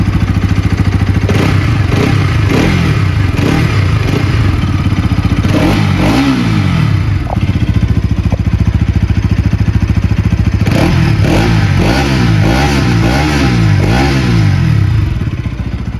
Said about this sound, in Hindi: इसका एग्जॉस्ट नोट बहुत ही रिफाइन है उसके कंपैरिजन में